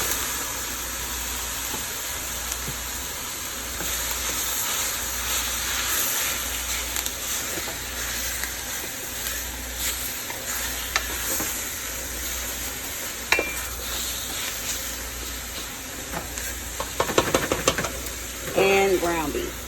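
Chunks of beef chuck hit a hot pan of sauteed onions and bell peppers for chili, giving a steady broad sizzle and hiss throughout, with a few stirring clatters and louder bursts near the end.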